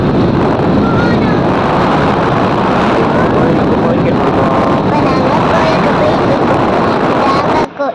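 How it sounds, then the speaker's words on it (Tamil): Loud, steady wind roar buffeting the microphone while riding a motorbike, broadband and continuous throughout; it cuts off abruptly at the end. "பைக்கில் போகும்போது நல்லா சில்லு சில்லுன்னு காற்று அடிச்சது."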